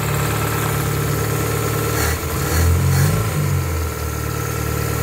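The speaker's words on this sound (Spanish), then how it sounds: "Miren, el motor enciende." Toyota 2E engine running just after starting, cold, a loud steady idle with a brief rise in revs midway, close and alone without talk.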